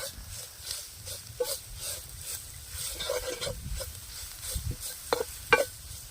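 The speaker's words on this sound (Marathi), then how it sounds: "एसूर घालून आपण मस्त परतून घेऊया" Mixed vegetables with esur spice being sautéed in a pan in a little oil, with a gentle dry sizzle under irregular scraping and stirring knocks, and a few sharper clacks near the end.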